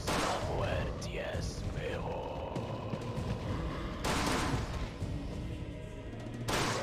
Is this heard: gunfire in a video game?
yes